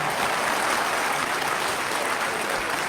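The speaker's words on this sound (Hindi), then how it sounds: "थोड़ा जोर से ताली बजाइए, बहुत बड़ा काम हुआ है।" An audience at a political event on a university campus claps loudly and continuously, a dense wash of applause filling the whole stretch with no voice over it.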